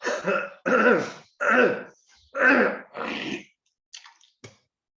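A person clears their throat several times in quick succession, close and loud, followed by a couple of faint short noises.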